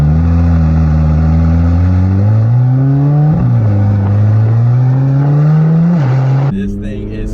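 A Chevrolet Corvette C8 Z06's engine revs loudly up and down from inside the car, with pitch climbing and then dropping at each gear shift in a rising, stepping pattern.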